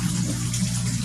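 Water pours steadily into a cleaned tarpaulin koi pond, a continuous low rushing gush with no breaks.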